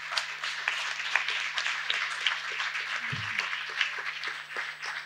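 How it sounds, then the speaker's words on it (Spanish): Audience applause for a literary panel at a Borges event, steady crisp clapping from a modest crowd heard throughout, even and moderately loud with a brief low thump partway through. "primero un fuerte aplauso para todos ellos y ellas."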